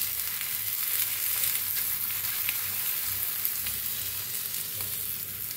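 Food sizzles and fries on an oiled griddle with a dense, steady hiss that holds close and even throughout, with no voices over it.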